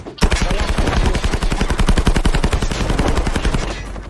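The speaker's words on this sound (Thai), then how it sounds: "ยิงมาแล้วนะ" Loud, close automatic gunfire in the Call of Duty Mobile battle royale mode, a fast continuous burst of sharp shots lasting about four seconds without a break.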